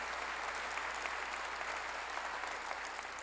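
Steady, even applause from a church congregation during a Korean sermon, a dense wash of many hands clapping at moderate distance with no pause.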